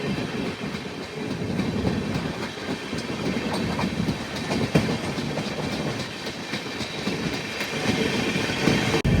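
Pinakini Superfast Express with LHB coaches, a South Central Railway train between Vijayawada and Chennai, runs at speed with a steady close rumble and rhythmic clickety-clack of wheels on rail joints throughout.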